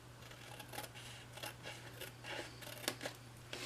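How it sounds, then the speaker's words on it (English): Scissors cutting along score lines in paper or card for a treasure box craft, a quiet run of repeated snipping strokes close by over a low steady hum. "So cut on this score line and this score line."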